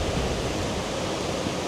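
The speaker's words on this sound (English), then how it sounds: "I've photographed this waterfall" A Washington waterfall in autumn sends out a steady, loud rush of falling water that fills the whole moment. Nothing else breaks through it.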